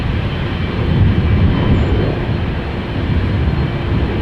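An Airbus A330 airliner at Amsterdam Schiphol Airport gives a steady, loud broadband engine roar that swells slightly around the middle and holds for several seconds, with no voices.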